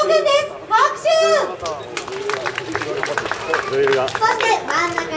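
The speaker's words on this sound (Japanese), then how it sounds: "拍手。" An audience of children and adults claps for costumed characters at a live stage show, with scattered applause mixed with excited kids' chatter and crowd babble throughout.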